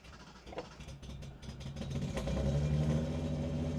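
A Datsun 240Z engine cranks with uneven clattery bursts, then catches and settles into a steady, rising mid-pitched running note, fairly quiet and close, with no voices.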